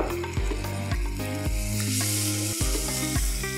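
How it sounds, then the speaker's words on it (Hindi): Masala sizzles and fries in a pan while being stirred continuously during home cooking, a loud steady hiss with rhythmic clanks and scrapes of a spoon about every half second, close up with no talking. "मैं कंटिन्यूसली हिला रही हूँ तो वो फटी भी नहीं है।"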